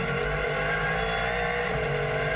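GT sports car engine pulling away from pit lane at Phillip Island during an Australian GT Championship race, a loud, sustained high-revving roar that stays constant and close throughout, with no talk over it.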